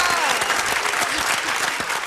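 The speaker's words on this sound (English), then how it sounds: "Hit the applause." Steady audience applause fills the space throughout, a dense, even wash of clapping at close range with no break, heard on a hip-hop talk show set.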